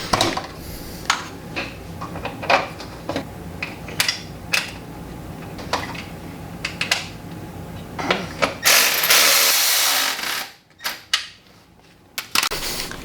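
Seat bolts on a Razor MX650 frame are ratcheted tight, with steady close clicking strokes in a regular rhythm and a brief louder mechanical burst near the end.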